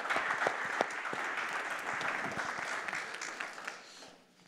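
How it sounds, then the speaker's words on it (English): Audience applause at a tech center spring summit, a dense, steady clapping crowd that fills the room and then thins and fades toward the end. "let's give them a round of applause"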